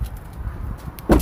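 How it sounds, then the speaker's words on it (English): A Tesla Cybertruck door slams shut once, a single solid thud near the end after a second of quiet background rumble. "let me slam the door."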